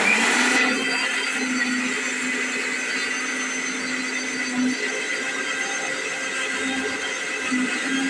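An electric mixer grinder whirs loudly and steadily as it grinds masala spices in a home kitchen, with a continuous high-pitched motor whine that holds for several seconds.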